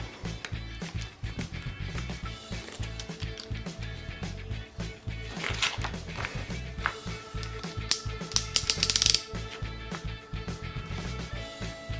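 Pendulum mechanism with a revolution indicator being turned by hand, giving a run of quick, close mechanical clicks and ratchet-like taps that are steady at first and grow sharper and louder toward the end, with no talking.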